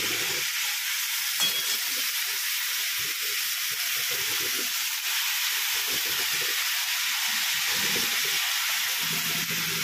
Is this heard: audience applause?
no